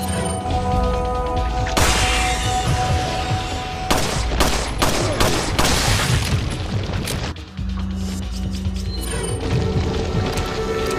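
Shotgun blasts in a video game, loud repeated booming shots in irregular bursts with crashing impacts, filling the scene with no talking over them.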